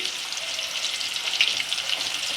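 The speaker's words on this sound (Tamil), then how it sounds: "இந்த கருவாட்டை போட்டு சும்மா லைட்டாக ஃப்ரை பண்ணி எடுத்துக்குவோம்" Dried fish (karuvadu) lightly frying in a pan, a continuous bright hiss of oil with fine crackles and pops, steady and fairly close.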